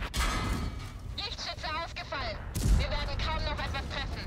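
Tank cannon fired into the ground in World of Tanks: a single sharp, loud blast in the middle of the clip, with a voice talking before and after it over game noise.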